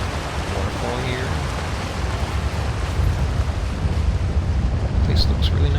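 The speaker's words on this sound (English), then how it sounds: "Got a nice little waterfall here." Small waterfall rushing in Elder Scrolls Online on Xbox Series X, a continuous broad wash of falling water that swells slightly midway, with brief faint chimes near the end.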